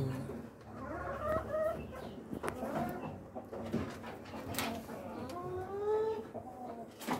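Many Rhode Island Red laying hens in cages cluck and murmur together at close range, a busy overlapping chorus of short clucks and drawn-out calls with no talking.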